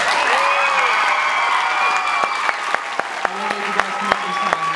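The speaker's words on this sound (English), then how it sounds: "So give a round of applause for them." An audience at a high school chamber choir's winter concert claps steadily in a dense wash of applause, with a voice speaking over it and the clapping thinning toward the end.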